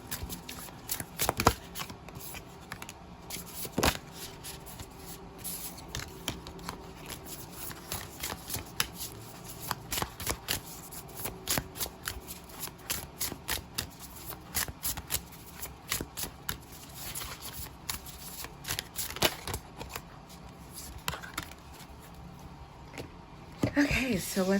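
A deck of oracle cards is shuffled over and over, producing a steady, close flutter of riffling and slapping cards, with a voice talking softly over parts of it.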